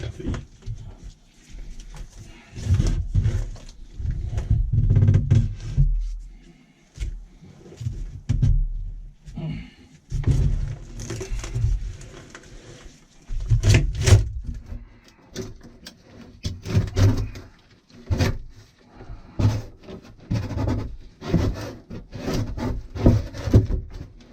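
Plywood panel being pried and wrenched out of a boat's aft cabin, giving repeated loud woody creaks, knocks and scraping bursts close up, with occasional brief pauses between efforts.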